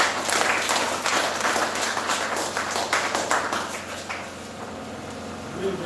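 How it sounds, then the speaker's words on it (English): Applause from an audience at a Christian youth political gathering in Langtang North, Nigeria, welcoming a speaker; dense, steady clapping fills the room and gradually thins toward the end. "let's clap our hands and welcome Mr. Victor Langtang."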